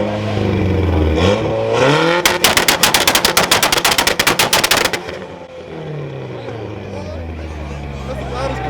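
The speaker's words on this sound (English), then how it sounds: "That's the loudest car I heard so far." At a large night car meet, a very loud car revs and lets off a rapid machine-gun string of exhaust pops and bangs lasting a few seconds, flanked by rising and falling engine revs, with people talking nearby.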